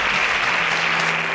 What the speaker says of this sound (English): Please, can we give a thunderous round of applause for Favor?